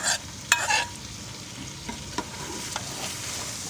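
Okra and meat being stirred as bhindi gosht fries in a pot, with a few sharp scraping clinks early on over a steady low sizzle, then quieter occasional stirs.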